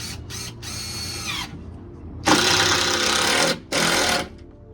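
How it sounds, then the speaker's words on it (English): Power drill boring into wood while building a reptile enclosure, heard in loud whining bursts: a few short starts, a sustained run, then two longer high-speed runs separated by a brief pause, close up with no talk. "You know you had to hear it, the drill, at least once in this video."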